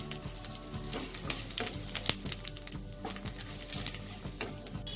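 Steady close sizzling of dried red chillies and Bengali five-spice in hot oil, crackling and popping throughout with a few sharper spits, no voices.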